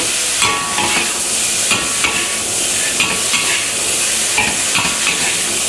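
Blanched vegetables, corn, button mushrooms and chicken stir-fry in a pan with a loud continuous sizzle, broken by regular scraping knocks of a spatula roughly every second, close up and with no voices.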